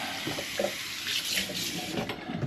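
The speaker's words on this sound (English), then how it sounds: "Just give the demijohn a quick rinse" Running water splashes and swirls inside a glass demijohn during a quick rinse for home-brewed mixed fruit and tea cider, a steady close rush with sloshing surges and no voices.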